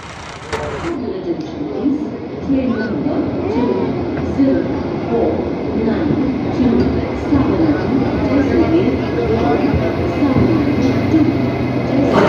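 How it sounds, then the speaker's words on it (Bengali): The 12461 Vande Bharat Express stands at Jodhpur station, giving off a steady, loud mechanical rumble and hum that fills the whole stretch, while people talk over it. "পিছনে দেখতে পাচ্ছেন যে ট্রেনটা করে আমরা যাব"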